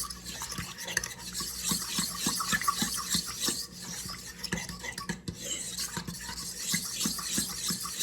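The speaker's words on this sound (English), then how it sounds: "whisk it with the fork just to make sure your starter is dispersed throughout the liquid" A fork whisking sourdough starter into liquid in a bowl: quick, rhythmic scraping and clinking strokes with a soft sloshing underneath, steady and fairly quiet, close up.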